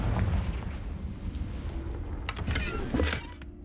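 A Confringo spell explosion in a Harry Potter video game, a deep rumbling boom with sharp crackling bursts over a loud, continuous low roar, with no talking.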